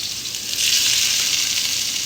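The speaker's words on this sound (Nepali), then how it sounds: "यतिको भइसकेपछि चाहिँ यसरी प्याज पनि हालिदिने" Chopped onion is added to hot oil already sizzling with cumin seeds while making fried rice. A steady, close hiss swells louder as the onion hits the pan, with no talking.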